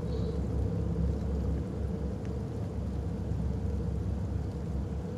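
Steady rain and low rolling thunder in the horror video game Fears to Fathom, Carson House episode, a dense continuous wash of rainfall with a deep rumble underneath, no voices.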